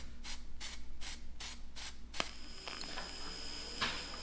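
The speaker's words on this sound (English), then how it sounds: "this stuff is a primer you spray and keeps things from rusting" A can of weld-through primer hisses in several short, rhythmic spray bursts, then a sharp click and quieter scraping noises follow, fairly close.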